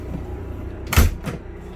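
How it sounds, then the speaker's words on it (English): A single solid thud as the door of a 2018 Thor Vegas 27.7 Class A motorhome is pulled shut, close and fairly loud, followed by a softer latch knock against a low background hum. "Shut this door behind us."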